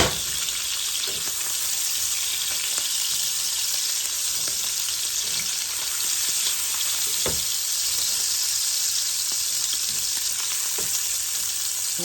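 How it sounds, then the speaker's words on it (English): Smoky sausage browns in an oiled skillet with a constant, loud sizzle and crackle, a dense, even frying hiss across the whole stretch, with faint scattered pops and no talking. "Our sausage has gotten all brown, so we're going to take it up."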